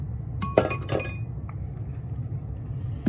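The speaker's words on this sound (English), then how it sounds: "All right, let's get a glass over here." A light glass cup from World Market is set down on a counter: a couple of sharp clinks close together, then a faint tap and one more clink, over a steady low room hum.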